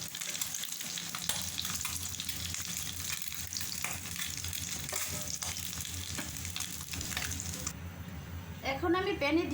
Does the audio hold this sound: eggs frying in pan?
yes